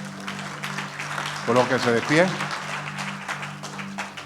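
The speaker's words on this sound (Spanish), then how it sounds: "¿Podemos aplaudir al Señor?" A church congregation at a Bible study applauds in steady claps beneath a preacher's amplified voice, with a sustained organ-like tone running throughout.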